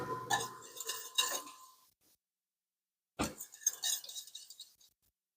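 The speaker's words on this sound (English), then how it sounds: "I can feel it as I'm whisking it." Mac and cheese sauce whisked in a pot, two close bursts of quick metallic clinking and scraping separated by about a second of silence.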